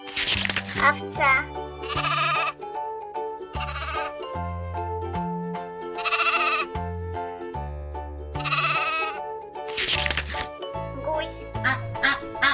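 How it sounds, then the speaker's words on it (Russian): A sheep bleats repeatedly, about half a dozen wavering calls in an irregular series, loud and near, over a light rhythmic music bed. "Овца."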